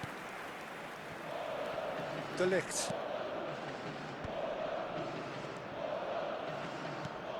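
A stadium crowd roars steadily in a soccer video game match, a broad sustained cheer running throughout under a commentator's voice, with a brief louder burst partway through.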